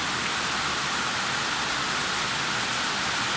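Heavy rain pours as a steady, dense, even hiss, loud and unbroken throughout, with no voices or other sounds over it.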